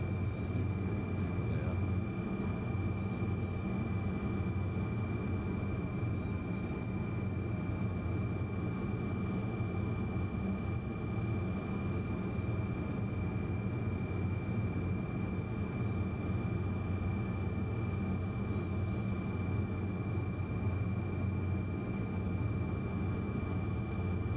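Steady, loud engine roar inside the cabin of a Tu-154 airliner in the X-Plane 12 flight simulator, a constant broadband drone with a faint high whine throughout, no speech.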